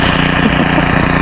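A two-stroke grass cutter engine running on a farm, a loud steady drone with a low buzzing hum, close by and continuous, with no talking.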